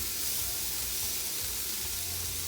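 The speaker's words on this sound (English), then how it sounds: "And you hear that sizzling?" Steady, loud sizzling of cabbage frying in a hot pan, a dense crackling hiss throughout with no voices.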